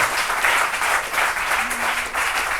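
A church congregation applauding together in a steady, dense wash of clapping that stays loud and even throughout, with a faint voice briefly audible beneath it.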